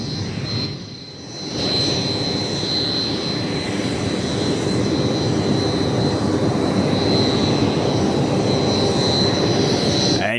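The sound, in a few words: aircraft engines at an airport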